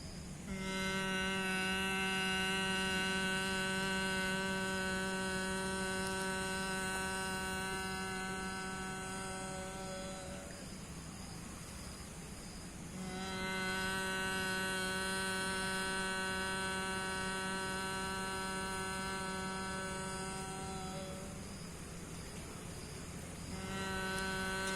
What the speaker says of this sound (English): inhale and start humming the sound of Makara